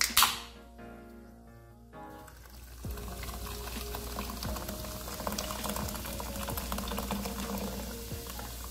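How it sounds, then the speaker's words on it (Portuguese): Salted Coca-Cola comes to a boil in a pot, starting with a sharp clatter and a brief sizzle, then settling into a steady, close bubbling and popping that continues without pause. "nossa Coca-Cola aqui começou a ferver"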